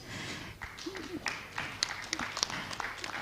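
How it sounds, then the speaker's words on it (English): Scattered audience clapping at a national HIV/AIDS scientific meeting, fairly faint and uneven, with individual claps standing out over a quiet murmur of the room for about three seconds. "thank you for the applause"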